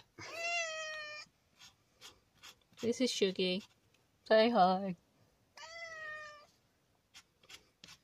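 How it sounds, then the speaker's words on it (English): A pet cat gives several clear, close meows, drawn-out and tonal, spaced between stretches of a person speaking softly to it. "And that was a cat."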